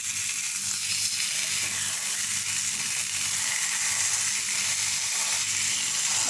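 Chicken pieces cook on a tawa over a low flame, Lahore street-food style, giving a steady, close, even sizzle and crackle that fills the whole stretch with no talking.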